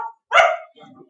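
An old beagle-coonhound mix gives a single loud, sharp bark close by, followed by a softer, lower whine or grumble.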